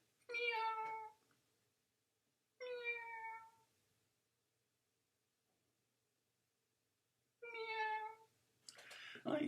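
A cat meows three times, close and clear, with long silent gaps between the calls in a very quiet room, followed by a short burst of rustling at the end.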